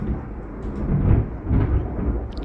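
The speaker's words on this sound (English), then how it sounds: "Guess we're getting a thunderstorm" Thunder from a thunderstorm rolls in as a low, distant rumble that swells twice over a couple of seconds, heard alone with no talking.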